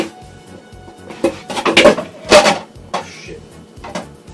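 A skillet pulled from a kitchen cupboard sets nearby pans clattering and knocking in a short run of sharp metallic clanks, loudest in the middle, over a low background hum.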